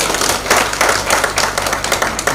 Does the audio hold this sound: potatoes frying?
no